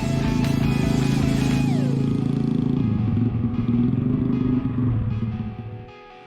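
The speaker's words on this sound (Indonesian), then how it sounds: "jadi ini udah sampai bengkel, motornya lagi dikerjain, mau dicek-cek" A motorcycle runs at a roadside repair shop while a mechanic works on it. The engine rumbles loud and close, drops in pitch with some clattering, then dies away at the end.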